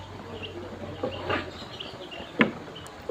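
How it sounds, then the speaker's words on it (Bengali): Soft, scattered clucks and peeps from small chicks of a tiger chicken breed walking about, a few brief calls spread out over quiet background hum, one slightly louder near the end. "টাইগার মুরগির বাচ্চাগুলো আমার সাথে হাঁটাহাঁটি করতেছে।"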